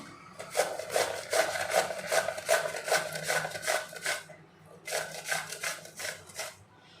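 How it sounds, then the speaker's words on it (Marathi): A cucumber, a country variety, is grated in quick rhythmic rasping strokes, close and fairly loud, pausing briefly midway before another run of strokes. "काकडी आपली किसून झालेली आहे"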